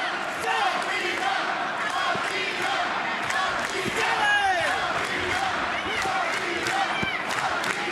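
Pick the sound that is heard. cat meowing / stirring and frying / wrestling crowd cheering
wrestling crowd cheering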